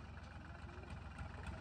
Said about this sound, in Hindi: अबे भैया हिमांशु ला रहे ट्रैक्टर ला रहे हैं ये